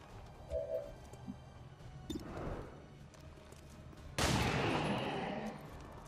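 Gunfire in XCOM 2: War of the Chosen, quiet overall, with a couple of sharp shots and a louder blast that rings out and decays over a low ambient game background.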